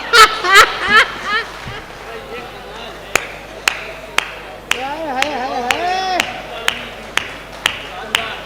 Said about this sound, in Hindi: ये 4-5 लोग ताली बजा रहे हो